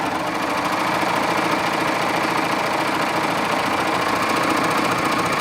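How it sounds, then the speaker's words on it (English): A Baby Lock serger stitching Lycra swimwear fabric over elastic makes a loud, steady, close mechanical whir that runs unbroken throughout with no pauses or talk. "this time I'm going to stitch from the right side of my fabric so I can see where my needles land"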